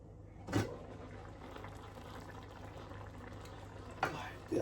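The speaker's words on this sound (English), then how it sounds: "this is coming to a boil. Can you see the little beautiful bubbles?" A pot of okra stew bubbles steadily at a boil, a soft continuous simmering hiss with a couple of brief louder knocks or clinks near the start and end.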